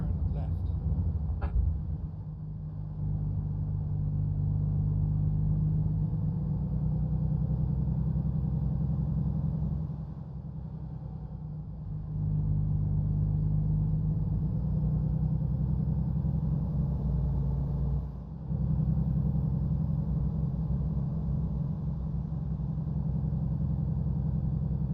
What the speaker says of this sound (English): this engine sounds better in cab than out of cab